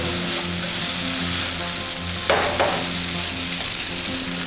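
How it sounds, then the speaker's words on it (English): Garlic crisps in a frying pan with a steady, busy sizzle that stays loud and close throughout, and one brief clatter partway through, with no talking. "Let the pan be, you can hear it crisping up."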